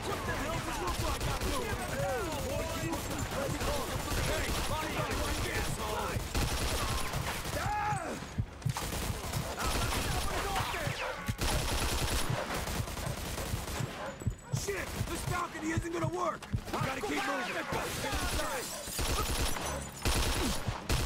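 Sustained heavy gunfire in Mafia II, dense overlapping bursts and automatic fire with voices shouting and talking throughout, loud and continuous for the whole stretch.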